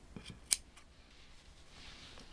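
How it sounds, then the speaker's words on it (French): Scissors snip once, sharp and close, while trimming a crochet pompom for slippers, with quiet handling noises before and after. "il suffit d'égaliser avec une paire de ciseaux"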